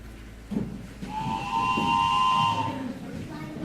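A sustained two-tone whistle blares for about two seconds over a low rumble, typical of a train horn at a station.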